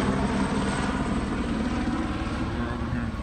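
A Los Angeles County sheriff's helicopter circles over Compton, California, its rotor and engine giving a constant, broad, loud drone that fills the whole stretch without a break.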